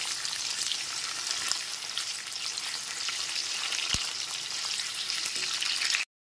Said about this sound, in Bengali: টমেটো টুকরোটা দেওয়ার পর খুব ভালো মতো ক্যাপসিকামের সাথে ভেজে নেব।